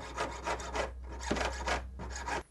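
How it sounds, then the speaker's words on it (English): Piercing saw cutting through soldered metal for a jewellery mount, a steady run of rasping back-and-forth strokes, close and fairly quiet, over a low constant hum. "We need to cut the access with the piercing saw."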